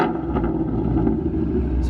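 A Ford Mustang S550 engine idles loud and close with a steady low rumble, holding even through the short stretch with no clear rise into a rev.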